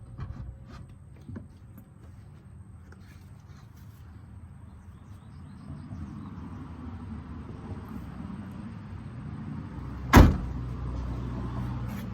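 A Jeep Wrangler door hung on its hinge pins, with faint handling noises over low outdoor ambience and then one sharp, loud metallic clunk near the end as it seats.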